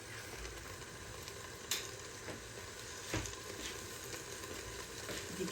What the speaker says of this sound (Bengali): এদিকে আমার ভেন্ডি ভাজিটা দেখি কেমন হয়েছে